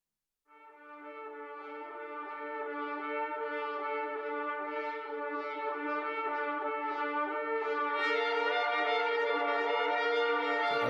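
After a short silence, a sampled brassy horn tone enters and sustains, growing brighter and louder as extra layers fade in toward the end, a dark, steady doom jazz drone with no talk.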